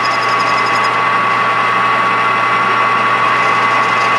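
A machine takes very light cuts in a copper coin, producing a loud, constant whirring drone with a faint steady whine and no break throughout.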